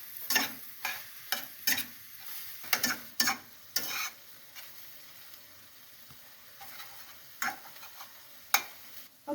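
Ground meat and plenty of onions browning in a pan for hamburger barbecue, soft sizzling broken by repeated sharp scraping stirs, close up and irregular.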